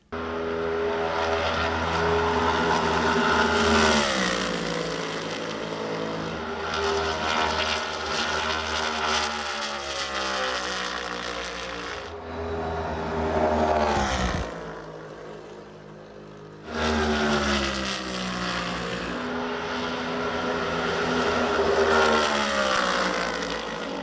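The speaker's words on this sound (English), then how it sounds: "There's a deeper, growlier snarl to the engine." NASCAR Next Gen race car engines roar past loudly in waves with a deep, growly snarl, pitch rising and falling as cars approach and recede, with brief gaps between passes.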